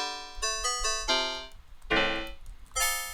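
Free-pack one-shot sample played in Logic, heard as a string of bright, bell-like pitched notes in a bouncy repeating figure, fairly quiet and alone.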